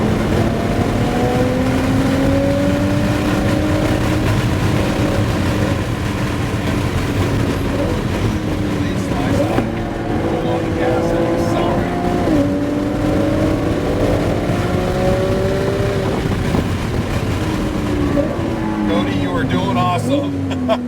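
A sports car engine on the Sonoma race track winds up through rising revs in repeated pulls, with brief dips between gear changes. The loud engine drone continues under a voice giving driving instructions.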